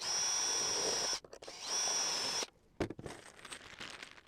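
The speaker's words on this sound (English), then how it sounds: "Drill another pilot hole." A power drill whines steadily in two close bursts while drilling pilot holes in wooden beehive parts, then stops, followed by a few clattering handling noises nearby.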